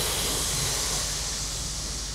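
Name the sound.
children imitating a cat's hiss in yoga class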